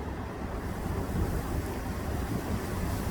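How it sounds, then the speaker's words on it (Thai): Strong wind blows hard outdoors, a loud, continuous roaring rush buffeting the microphone with no pauses. "ลมแรงจ้ะลมแรง"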